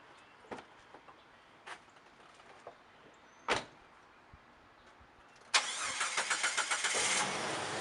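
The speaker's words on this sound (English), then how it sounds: "I'm going to start it up and back it down the ramps" A 1999 Jeep Grand Cherokee starts after a few scattered clicks and a door-like thump: the starter cranks briefly and the engine catches into a steady, close idle.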